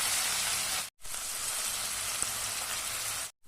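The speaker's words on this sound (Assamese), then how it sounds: "এই আদা, নহৰু, বিলাহী এই গোটেইখিনি এতিয়া অকণমান তেলত দি পেলাই অলপ দেৰি ব্ৰাউন কালাৰ হোৱালৈকে অকণমান দেৰি ভাজিব লাগিব" Ginger, garlic and tomato fry in a little oil, giving a steady, dense sizzle that runs close and even, cut by two brief silent breaks.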